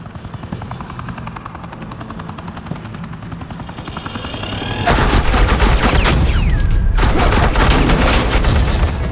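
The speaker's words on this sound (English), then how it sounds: "suppressing fire." Sustained suppressing gunfire in Batman: The Enemy Within jumps in loudly midway, a dense rattling burst layered over a steady helicopter drone that fills the whole stretch.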